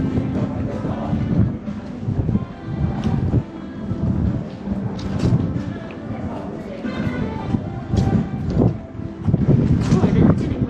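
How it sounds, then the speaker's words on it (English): Wind gusts buffet the microphone in low rumbling bursts at McArthurGlen Designer Outlets, with a busy outdoor murmur and occasional voices underneath. "the wind is picking up"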